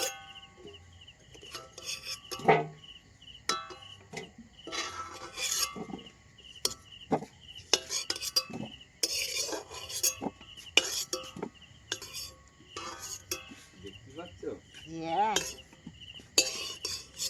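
Fried potatoes being lifted out of a pan bring intermittent scraping and metallic clinks of a utensil against cookware, irregular and fairly close, with quiet gaps between strokes.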